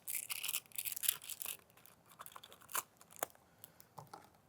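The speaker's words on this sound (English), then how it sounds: "I'm gonna go ahead and take it out the plastic sleeves" A clay bar comes out of plastic sleeves and packaging with crisp crinkling and rustling bursts, close and fairly quiet, in irregular handling with no talk.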